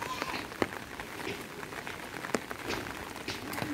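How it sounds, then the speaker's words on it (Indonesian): Light rain falls steadily on outdoor surfaces, a soft continuous patter with a few sharper drops, while faint voices sound in the background. "ini hujan meribis-ribis ya"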